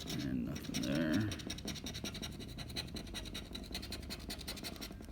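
A lottery scratch card being scratched with continuous rapid rasping strokes, close and steady for several seconds, with a brief burst of breathy voice at the start.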